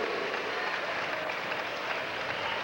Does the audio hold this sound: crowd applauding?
yes